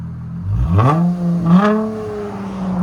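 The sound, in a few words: Toyota 4Runner 4.7L V8 revving with straight pipes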